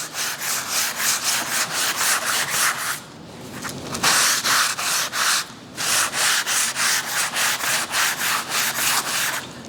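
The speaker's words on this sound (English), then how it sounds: "Sanding block is what I have today, so I'm going to lightly sand." Rhythmic hand sanding with a sanding block and 220-grit paper along the grain: quick back-and-forth scratchy strokes in regular bursts, with two short pauses, close and fairly loud.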